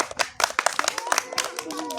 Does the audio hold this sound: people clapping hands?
yes